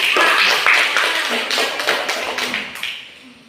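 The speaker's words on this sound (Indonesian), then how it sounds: "Tepuk tangan untuk kelompok" Classroom participants clap for a student group during a school project presentation. The loud burst of many hands starts at once, then thins out and fades over a few seconds.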